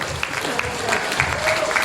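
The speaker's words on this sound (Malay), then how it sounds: "Okey, tepukan untuk diri saya." A seminar audience gives a short round of applause, the clapping steady and close for just under two seconds with faint voices mixed in.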